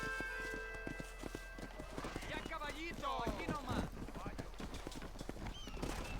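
A horse's hooves clip-clop steadily at a trot in the Red Dead Redemption video game, a continuous rhythmic patter heard close by under game voices and music.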